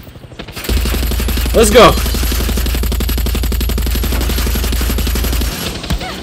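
Rapid automatic gunfire in Far Cry 6, a loud sustained burst of evenly spaced shots lasting about five seconds, with a short voice and a rising whoosh partway through.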